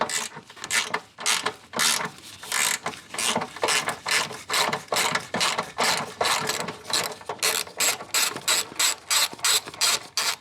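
Ratchet wrench turning a 10mm bolt on a Nissan Micra K11 engine, a long run of rapid, evenly spaced clicking strokes, close and fairly quiet, with no talk.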